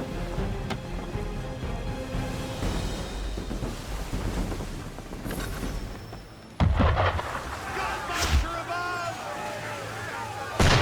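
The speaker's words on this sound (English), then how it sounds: "Why is he shooting at us?" Heavy booming cannon fire from an enemy ship during a naval chase in Assassin's Creed 3, with rumbling blasts over wind and sea noise and a sharp loud shot near the end, mixed with voices.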